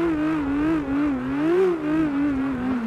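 Car engine in CarX Drift Racing just after downshifting into third gear, a close, continuous buzzing drone whose pitch wavers gently up and down as the revs rise and ease.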